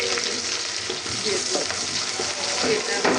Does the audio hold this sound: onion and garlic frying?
yes